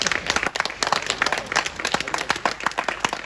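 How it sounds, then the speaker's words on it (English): Audience applause at a university alumni talk event, a dense, sustained clapping crowd with sharp individual claps throughout, fairly loud and steady across the whole stretch. "Can we have a huge round of applause?"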